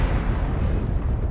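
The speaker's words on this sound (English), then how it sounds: "incoming missile" Missile exploding against a King Crab mech in MechWarrior Online, a loud, dense, rumbling blast with heavy low-end boom filling the whole short moment.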